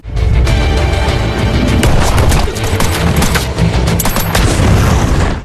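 An explosion tears through a ship in an action film, a loud, sustained roar of booms and crackling blasts with scattered sharp reports, dense and close throughout.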